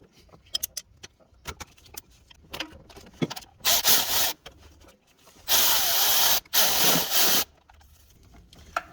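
A wrench works loose the belt tensioner and idler pulley on a 2007 Honda Odyssey, with light metallic clinks followed by loud sustained ratcheting bursts close by and no talk.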